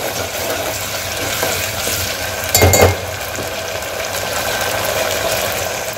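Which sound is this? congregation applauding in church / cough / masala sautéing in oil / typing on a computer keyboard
masala sautéing in oil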